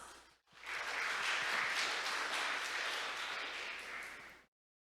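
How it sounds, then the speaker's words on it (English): Warm audience applause at a maritime week conference in Busan greets a speaker on autonomous ships, a dense burst of clapping that rises quickly, holds steady for about four seconds, then stops abruptly. "Let's welcome her with a warm round of applause."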